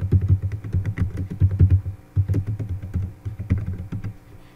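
Rapid, steady keystrokes on a computer keyboard as an address is typed into an online form, close and clear with brief pauses between bursts.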